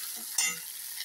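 Potatoes and flat beans frying lightly in a pan, with a brief stirring scrape and a sizzle that swells near the middle before settling back to a steady, soft crackle.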